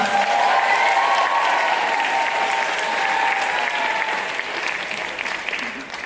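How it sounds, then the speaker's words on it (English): A crowd at a dance championship applauds the nine competing teams, a dense, steady burst of clapping that stays loud and continuous before tapering slightly at the end. "Let's give all 9 teams a big round of applause"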